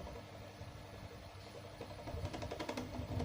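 A faulty electric fan that spins slowly and stiffly gives a low mechanical hum and whir, quiet at first and then building into a rougher rattling vibration toward the end, with no speech.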